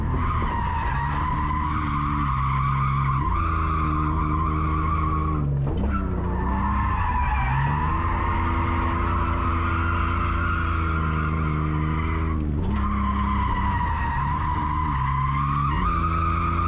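A car drifts at a drift event with the clutch slipping: a loud, sustained engine roar with shifting pitch, overlaid by continuous tire squeal and skidding, briefly dipping twice as the revs change.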